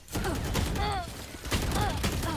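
Rapid gunfire from a ranked shooter video game rattles continuously through the clip, loud and near, with game effects and faint voices mixed in.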